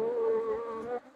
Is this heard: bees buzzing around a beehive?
yes